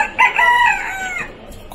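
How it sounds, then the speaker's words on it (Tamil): Aseel rooster crowing at an agricultural exhibition in Qatar, one loud close cock-a-doodle-doo with a sustained wavering tail, alone against faint background. "பார்த்தோம், அசீல் கோழி. என்ன கோழின்னு தெரியல, அழகா இருக்கு பார்த்தீங்களா கோழி."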